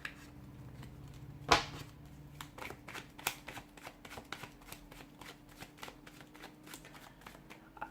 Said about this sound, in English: I've put those cards back in the deck because I just don't feel like those were your cards.